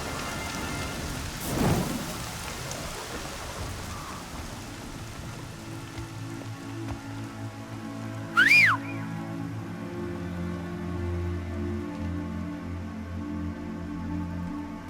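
Rain falling steadily in the Horizon Zero Dawn video game, with a rolling thunder rumble early on and a brief sharp chirp midway, the downpour continuing evenly throughout.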